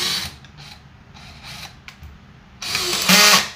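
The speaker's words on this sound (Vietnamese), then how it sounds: "Cái này thì nó bắn vít là quá nhẹ nhàng rồi" A Stanley cordless drill driving a screw, a short whirring burst with a ratcheting mechanical edge that rises sharply near the end after quieter handling noises.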